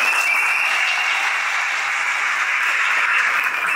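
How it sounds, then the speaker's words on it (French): Wedding guests at a civil marriage ceremony in Gabon break into sustained, loud applause that fills the room evenly, with no talk over it. "je souhaite que l'on applaudisse pour tous ces enfants"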